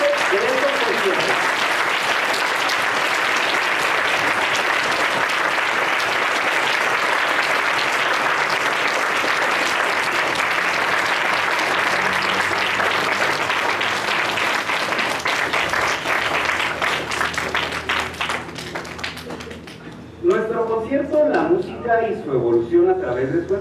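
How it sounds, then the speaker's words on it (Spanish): A concert audience at the John Langdon Down Foundation gives long, even applause to welcome the conductor, then the clapping thins and gives way to a few individual claps and murmuring voices. "con un gran aplauso, recibamos al maestro José Arturo González, director de este concierto"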